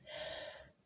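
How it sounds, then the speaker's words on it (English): A single slow breath out, a soft airy hiss lasting under a second, close and quiet with no talking. "Breathe out."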